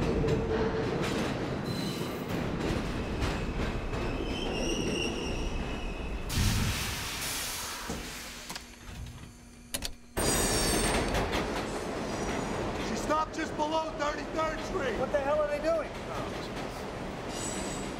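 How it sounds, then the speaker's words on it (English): A subway train slowing to a stop at a signal point rumbles and clatters with squealing wheels and shifting metallic tones, loud and close, with voices faintly under the noise. "Train has to stop at signal points."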